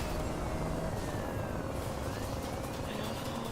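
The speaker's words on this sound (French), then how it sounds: "Contrôle, j'aurais besoin de l'hélico." A police helicopter in the racing game Need for Speed Rivals, its steady rotor drone hovering nearby beneath constant car engine and road noise throughout.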